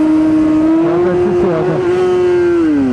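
A motorcycle engine revs steadily with a sustained tone that rises and dips slightly while the rear wheel spins against the ground, loud and close throughout with no talking.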